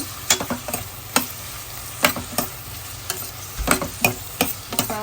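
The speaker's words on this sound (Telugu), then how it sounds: "బాగా బ్రౌన్ కలర్ వచ్చే వరకు కూడా ఫ్రై చేసుకోవాలన్నమాట" Onion, green chili and curry leaves fry toward brown in a hot pan. A constant sizzle runs underneath while a spoon clatters and scrapes in irregular, sharp knocks.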